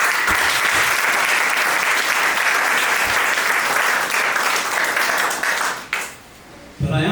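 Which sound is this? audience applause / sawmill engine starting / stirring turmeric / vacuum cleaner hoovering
audience applause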